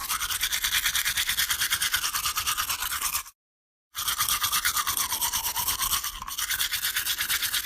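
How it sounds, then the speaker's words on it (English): Bristles of a basic kid's Godzilla toothbrush scrub steadily against teeth in a close, continuous brushing rhythm, broken by a short silent gap midway before resuming. "This is a kid's toothbrush, so it's very basic, just bristles."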